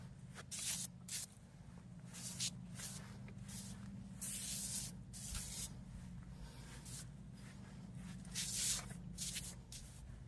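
Bursts of hissing weed sprayer spray on a Kentucky bluegrass lawn come and go in uneven pulses over a steady low engine-like hum, with shuffling and rustling between sprays.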